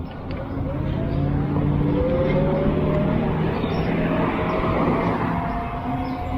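A Lectric XP Lite folding ebike with a 300 watt hub motor climbs a steep hill, giving a steady close motor whine that shifts slightly in pitch over a continuous bed of wind and road noise.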